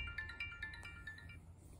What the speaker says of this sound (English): now I'm getting a phone call.